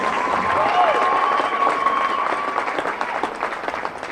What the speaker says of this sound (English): So let's have one more round of applause for our seniors.